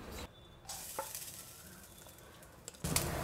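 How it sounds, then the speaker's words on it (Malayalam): Half a cup of grated coconut fries with mustard seeds in a pan for sambar, a faint continuous sizzle broken by sharp little pops and a louder burst of frying near the end, with no one talking. "കടുക് ചെറുതായിട്ട് പൊട്ടാൻ തുടങ്ങിയിട്ടുണ്ട് ഈ സമയത്ത് ഒരു 1/2 കപ്പ് തേങ്ങ ചുരണ്ടിയത്"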